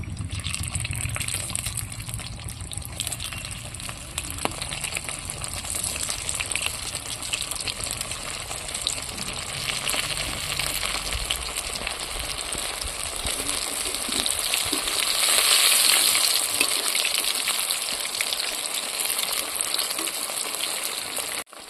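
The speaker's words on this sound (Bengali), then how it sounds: "দিয়ে একটা একটা করে সব ভেজে নেব।" Lote fish (Bombay duck) cutlets, already fried once and cooled, go back into hot oil for a second frying, giving a steady broadband sizzle and bubbling that swells slightly mid-way; no one speaks.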